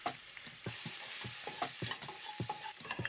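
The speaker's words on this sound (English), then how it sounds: "Now we're gonna brown our mushrooms." Mushrooms brown in avocado oil in a skillet, a close, lively sizzle broken by repeated scraping stirs in an uneven rhythm, with no talking.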